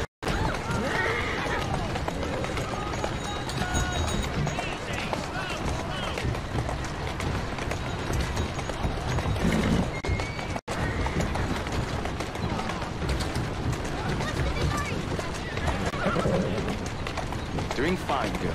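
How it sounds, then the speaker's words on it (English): A horse in the Assassin's Creed Syndicate video game whinnies and clip-clops along steadily, up close and loud throughout, with voices talking over it. "Who's a good horse? You are."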